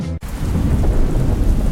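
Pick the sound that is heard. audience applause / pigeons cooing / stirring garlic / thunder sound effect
thunder sound effect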